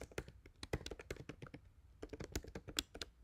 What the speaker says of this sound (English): We're going to type from random import randint